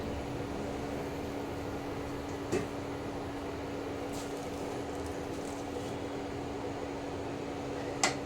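Induction cooktop switched on under a frying pan, giving a steady faint hum with an electrical whine, broken only by a couple of small clicks.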